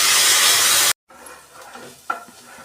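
Onion sautéing in a pan for masala bhindi: a loud, hissing sizzle breaks off abruptly, then a softer frying crackle continues with a brief clink or scrape.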